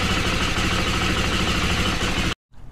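Engine of a 2022 Husqvarna FE350S motorcycle idling steadily and loud up close, a constant even drone that cuts off abruptly near the end, leaving faint background noise.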